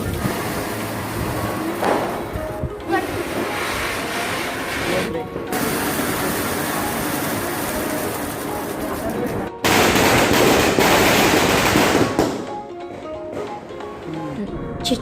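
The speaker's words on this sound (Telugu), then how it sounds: "చిచ్చుబుడ్డలని, భూచక్రాలని ఇలా చాలానే పేల్చుకున్నామండి క్రాకర్స్." Diwali firecrackers, flower pot fountains and ground spinners, sputter and hiss continuously with rapid crackling bursts, growing louder partway through before dropping off near the end.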